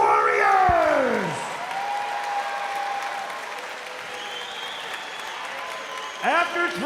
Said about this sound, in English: can we please have a round of applause for these two warriors?